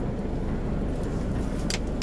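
A Mercedes Travego bus engine idles with a steady, close low rumble and even throb, a little faint hiss on top, no talking.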